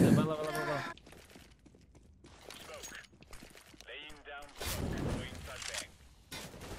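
Bursts of gunfire from the CS:GO video game ring out in short volleys, mixed with steady voice chat from players talking throughout.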